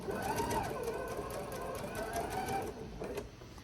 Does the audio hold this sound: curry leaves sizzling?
no